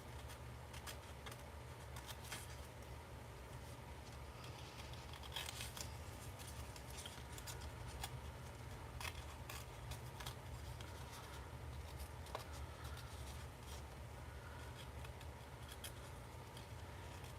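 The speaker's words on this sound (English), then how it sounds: "You always get so quiet when you fussy cut, eh?" Cutter Bee scissors fussy-cutting paper make faint, scattered snips and rustles over a low steady background hum, quiet and unhurried with no voices.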